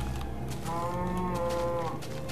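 A cow in the video game Minecraft gives one drawn-out, mid-loud moo over a steady background bed, with no talking.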